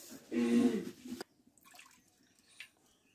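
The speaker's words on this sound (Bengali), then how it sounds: "এক বাটি জল দিয়ে সেরাটা করে নেব" Water poured from a bowl into sugar to make syrup, a short close splashing pour lasting about a second, followed by quiet faint clinks and settling.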